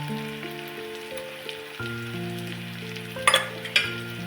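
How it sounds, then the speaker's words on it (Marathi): Onion and tomato sauté in oil with turmeric and red chilli powder, a soft continuous sizzle under a sustained tonal hum, broken by a couple of sharper clattering stirs near the end. "छान असं हे 2 मिनिटं परतून घेऊया"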